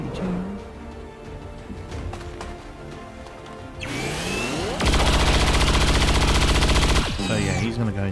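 Chain shot weapon fire in XCOM 2, a sustained loud burst of rapid gunfire lasting a couple of seconds after quieter game sounds, then tailing off.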